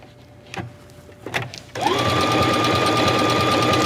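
A sewing machine runs steadily, stitching a second row along the hem of a little black dress. A few soft handling taps come first, then the motor's even, continuous whir holds loud and close to the end.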